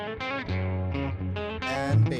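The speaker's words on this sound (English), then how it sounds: "Lots of reverb. This is from my guitar processor." An electric guitar run through a guitar processor with heavy reverb plays sustained, distorted chords and notes in a short phrase, each ringing out into a smeared wash of reverb.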